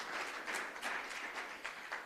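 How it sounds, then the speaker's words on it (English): Applause from the audience at an afternoon expo session in a hotel conference room, a short, fairly loud burst of clapping that holds steady for about two seconds. "A round of applause for Guido Royer."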